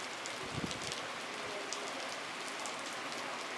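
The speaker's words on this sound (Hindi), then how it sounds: "बारिश है" Steady rain patters down over an outdoor yoga class held in an old grain market, a dense, even hiss with scattered close drops throughout.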